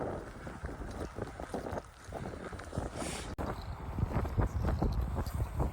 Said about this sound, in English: Ooh, cold wind, mate.